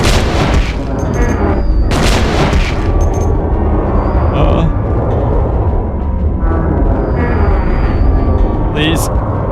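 Gunfire in the horror video game Silent Hill 2, with repeated booming shots across a constant, dense din and a voice talking over the top.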